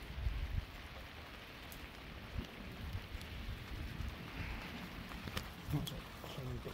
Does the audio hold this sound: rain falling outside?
yes